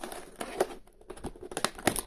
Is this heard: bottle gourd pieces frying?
no